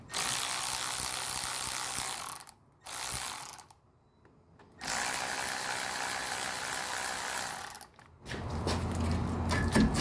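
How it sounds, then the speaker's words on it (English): A hand ratchet loosening the brake caliper slider bolts on a 2016 Honda Civic clicks rapidly and steadily up close, in several long runs broken by short pauses, with no talk. "the first thing we're going to do is remove the slider bolts"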